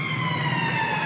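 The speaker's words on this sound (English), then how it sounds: "The sirens are so loud." A loud siren wails continuously with bright, sustained tones on the London Underground, sounding close and steady throughout.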